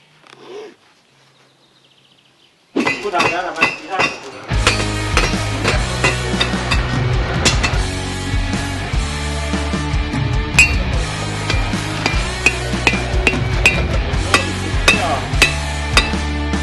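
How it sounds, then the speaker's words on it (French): A heated steel bar is hammered against the horn of an anvil at a forge in Estonia, giving a steady run of loud, ringing metallic strikes after a quiet opening. "on va venir le taper contre la corne de l'enclume"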